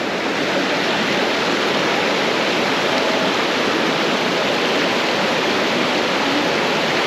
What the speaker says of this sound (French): je trouve que c'est reposant le bruit d'une rivière.